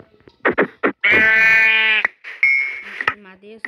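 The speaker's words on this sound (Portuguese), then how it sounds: "Essa ovelha" Sheep in a Minecraft game bleat several times in quick succession, a close, loud, nasal cry with one long drawn-out call, mixed with brief clicks and a person speaking.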